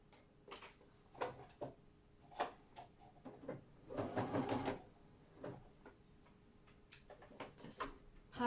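A sewing machine stitching the outer waistband onto a pair of jeans, faint, quick mechanical ticking in short stop-start bursts with quiet pauses between runs.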